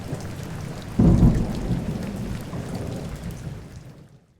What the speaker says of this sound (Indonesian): Lalu, hujan deras pun turun tanpa peringatan.